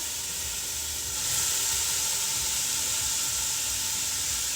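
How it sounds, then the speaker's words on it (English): A whole large Vidalia onion, diced, sizzles in a pan as a steady, even hiss that swells slightly after a second and holds with no talking. "I'm not sure if there's anything better than onions cooking."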